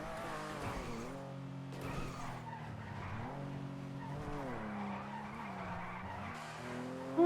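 A video-game car brakes hard and skids, its tires squealing in long wavering pitch sweeps over a low engine drone for several seconds.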